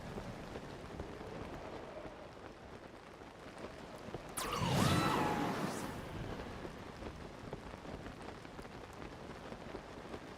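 Soft, steady rainfall in the video game Zelda: Tears of the Kingdom, a faint continuous patter throughout, with a brief louder swell of rumbling noise in the middle that sounds like distant thunder.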